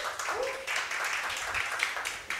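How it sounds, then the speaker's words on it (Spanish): Audience at a storytelling event applauding to welcome a storyteller, a moderate, continuous spatter of clapping with a brief vocal exclamation early on. "recibámosla con un fuerte aplauso, por favor"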